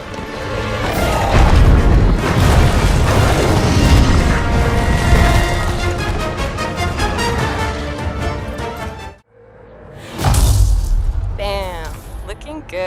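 Loud booming blasts from a mortar in a video game, a dense run of heavy impacts that cuts out briefly before another burst and rumbling aftermath, with game voices talking over it.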